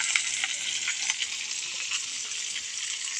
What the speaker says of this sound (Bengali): তো মাছটা আগে ভেজে নিই, পরে এটাকে সুন্দরভাবে ভুনা করব।